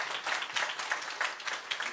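A church congregation claps during a Sunday evening worship service. The clapping is faint and comes in quick rhythmic bursts, as if the hands move roughly in time, throughout the short stretch.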